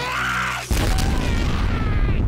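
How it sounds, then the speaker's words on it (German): An anime explosion set off by a door handle turned into a bomb: a low, sustained tone cuts off into a sudden loud boom followed by dense rumbling debris noise that fills the rest of the moment. "Und Killer Queen hat die Türklinke schon längst zur Bombe gemacht."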